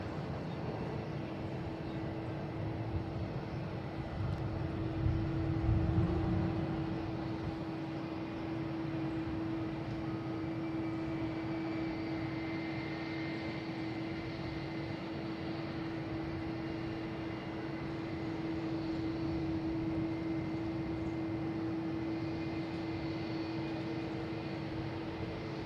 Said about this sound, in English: Next landing is a Delta coming in from Denver